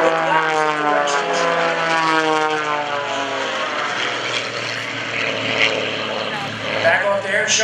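Wolf Pitts and MX-2 aerobatic airplanes at an airshow: a steady, loud propeller drone with shifting pitch that rises and falls as the planes maneuver, continuous across the whole stretch with crowd ambience beneath.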